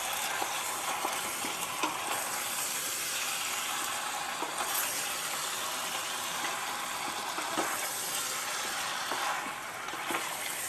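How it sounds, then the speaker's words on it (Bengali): A large batch of chicken sautéing in a pan gives a broad, even hiss of frying with occasional soft stirring scrapes, steady and close but not loud. "চিকেনটা দিয়ে আমি ভালো করে কষছি। অনেকটা চিকেন, তাই একটু নাড়তে অসুবিধা হচ্ছে।"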